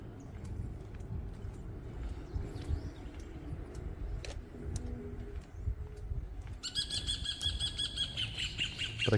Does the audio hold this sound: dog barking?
no